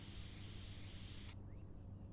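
Paint spray gun hissing in a farm renovation video game, a steady, bright airy spray that cuts off abruptly partway through, leaving a faint low background hum.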